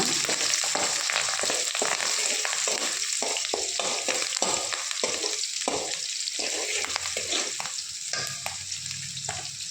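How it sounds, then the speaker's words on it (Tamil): Onions sauté in oil in a pan for a Tamil-style brinjal gravy, a steady close sizzle broken by repeated rhythmic scrapes of stirring throughout. "இப்போ பாருங்கள், ஆனியன் வணங்கிடுச்சு"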